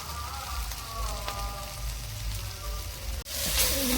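Spices with chilli and turmeric powder sizzle while being sautéed in a pan, a constant close crackling hiss, with a sharper surge of sizzling after a brief pause when a little water goes in.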